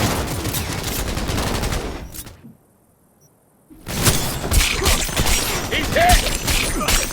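Dense, rapid gunfire from Cyberpunk 2077 rattles loudly in sustained bursts. It cuts out into near silence for about a second and a half, then resumes just as heavily, with shouting voices mixed in.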